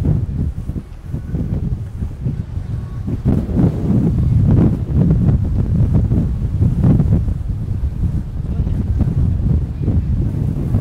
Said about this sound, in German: Oh, heftiger Wind hier.